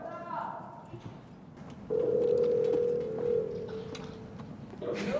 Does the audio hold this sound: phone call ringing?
yes